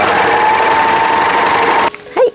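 An overlock serger stitching yukata fabric runs with a steady, loud motor whir for about two seconds, then stops abruptly, leaving a brief quiet handling sound.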